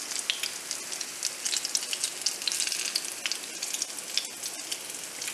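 Steady, soft sizzling of food frying in a frying pan, a continuous crackly hiss with small pops and no voices.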